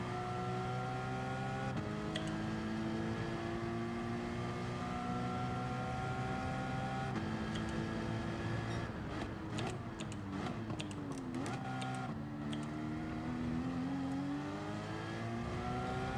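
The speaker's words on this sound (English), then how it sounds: "I'm really only dropping it into first gear for a second there, just to try to get a little blip of rev to keep the revs from dropping" A race car engine in Gran Turismo 7 at Barcelona holds a steady drone, then blips upward on a brief downshift into first gear before settling again. A busy patch of clicky ticks runs partway through, and no one speaks.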